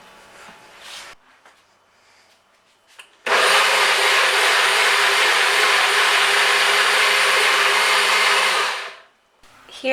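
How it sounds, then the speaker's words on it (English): A Magic Bullet blender purees butternut squash soup, bursting into a loud, steady whirring roar that runs about six seconds before winding down, after brief quiet handling sounds. "I'm going to be using my magic bullet"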